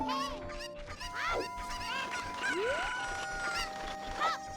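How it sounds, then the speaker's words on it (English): Cucco chickens in The Legend of Zelda: Ocarina of Time cluck and squawk repeatedly at close range, with shrill rising cries over a busy game soundscape, no talking. "I'm hitting the cuckos with my sword just to speed this up"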